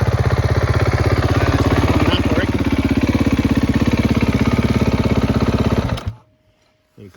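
A mid-sized engine idles with a fast, even pulsing chug, loud and close for about six seconds before it is switched off and cuts to near silence.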